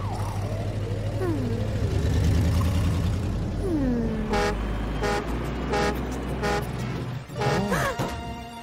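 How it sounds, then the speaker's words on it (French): A cartoon truck, a police-car character, sounds its horn in a few short, repeated honks midway through, loud over cartoon voices and background music. "Ton klaxon te prévient de faire une pause."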